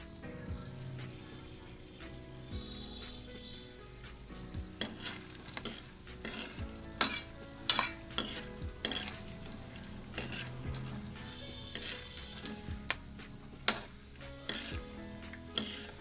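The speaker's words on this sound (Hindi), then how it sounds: "बादाम फ्राई कर लेंगे।" Almonds frying in a pan for gond makhana, a steady faint sizzle with a scatter of sharp clicks and scrapes as they are stirred, growing busier partway through.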